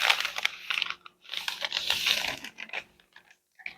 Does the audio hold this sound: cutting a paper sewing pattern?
yes